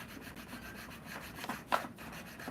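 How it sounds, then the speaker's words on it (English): A wooden serving tray being filed by hand, with soft, steady rasping that stays fairly quiet and continuous, plus one slightly louder scrape near the end. No one speaks. "It's the soothing ASMR sound of filing"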